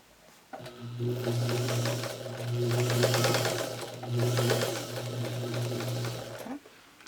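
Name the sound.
sewing machine chain piecing quilt block pieces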